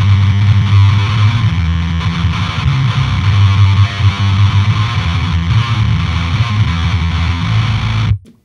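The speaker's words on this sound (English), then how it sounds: "that is, like, super overdriven, like, just destroying the signal." Heavily overdriven, distorted guitar-like tone roars continuously and loud for about eight seconds, then cuts off abruptly near the end.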